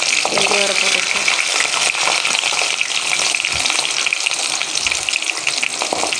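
Whole small onions (shallots) fry with fenugreek seeds in a pan, making a loud, dense, unbroken sizzle and crackle that stays steady throughout.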